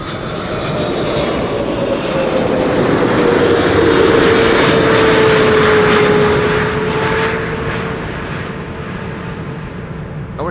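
Airliner arriving at an airport gives a loud, steady engine roar that swells to a peak mid-way and then slowly eases off as it passes.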